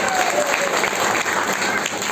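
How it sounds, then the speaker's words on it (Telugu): An audience at a talk by a young leader claps loudly, a thick continuous burst of applause from many hands with a few voices mixed in underneath. "ఒకసారి జోర్దార్ చప్పట్లు కొట్టాలి."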